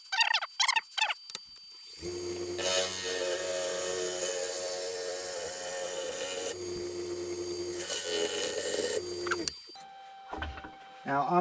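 A log spinning on a wood lathe while a tool shapes it into a lampshade, a loud continuous rasping cut with a low motor drone that stops briefly and resumes, with talk at the start and end.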